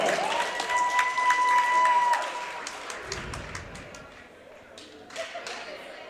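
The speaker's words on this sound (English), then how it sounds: "Let's give our administrators a round of applause." A burst of applause and cheering from fans in a school gym at a girls' varsity basketball game, with a sustained whistle-like tone at first, then scattered claps and thuds fading out.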